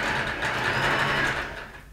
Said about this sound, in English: I'm just gonna start sewing halfway up.